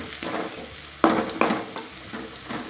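Onions sautéing in a pan for tomato rice, with a soft continuous sizzle and a few sharp stirring scrapes, close up.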